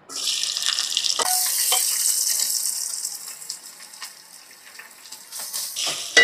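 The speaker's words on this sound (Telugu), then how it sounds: "ఇవి వేగిపోయిన తర్వాత ఉల్లిపాయలు వేసేసుకోవడం" Onions fry in a pan for a bitter gourd curry, making a steady close hiss of sizzling oil with scattered small crackles and pops. The sizzle stays moderately quiet and fades slightly toward the end, with no speech.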